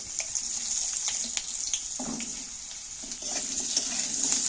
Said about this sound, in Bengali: আলুগুলো তো ওই অল্প তেলের মধ্যেই আমি নাড়াচাড়া করে ভেজে নেব